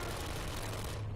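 A continuous, dense stream of rapid fire from the automated sentry turrets in the puzzle game Portal, steady and loud for about a second before cutting off.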